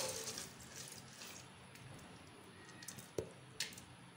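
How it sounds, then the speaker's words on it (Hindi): Lentils (dal) poured into a cooking pot on a stove over low heat, giving a soft, wet, sloshing rush that fades. A few faint taps and clinks follow. No one speaks. "अब हम सबसे पहले इसके अंदर दाल डालेंगे।"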